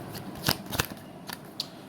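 Tarot cards are shuffled and drawn with quick, close papery flicks and snaps, a few sharp card slaps spaced irregularly over quiet room tone.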